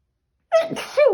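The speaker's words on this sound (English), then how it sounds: "I'm going to sneeze, pardon me." A single sharp sneeze erupts after a moment of silence, close and loud, with a brief vocal trailing sound at the end.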